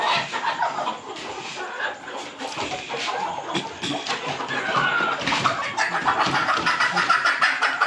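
Desi village hens cluck and squawk in a busy, overlapping chorus, close and fairly loud, with a dense scratchy bustle of poultry filling the whole stretch.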